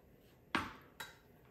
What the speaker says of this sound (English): let's finish chopping up the garlic because I need garlic for our soup.